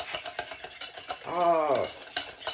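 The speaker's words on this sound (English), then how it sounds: "So you just mix that up real good." Ingredients for mango curd stirred together in a pot on medium heat, a spoon scraping and clinking against the metal in quick repeated strokes, close and fairly quiet.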